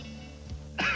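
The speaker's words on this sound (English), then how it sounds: "With a dry, hacking cough" A dry, hacking cough from a person with a cold, a short throaty burst near the end of a brief quiet moment, close and fairly loud.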